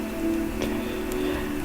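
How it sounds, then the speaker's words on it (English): Rain falls steadily in the game Minecraft, a continuous even hiss with no voices over it. "there goes the rain"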